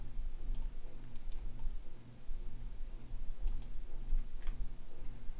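Faint, sparse clicks of typing on a computer keyboard come in small clusters over a low hum, quiet and close, with no talk.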